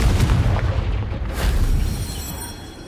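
Confringo fire spell blasting in Hogwarts Legacy, a loud booming explosion that bursts at the start, swells again briefly, then rumbles and fades out.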